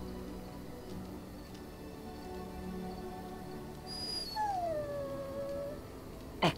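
A dog in the video game Dragon Age: Origins whimpers and lets out a rising, drawn-out howl, faint over a quiet ambient background, ending with a short sharp sound.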